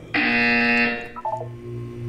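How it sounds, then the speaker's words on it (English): A loud electronic buzzer from the video game Portal 2 sounds once in a steady, harmonically rich tone lasting under a second, followed by a short falling two-note electronic chime over a low background hum. "You will hear a buzzer."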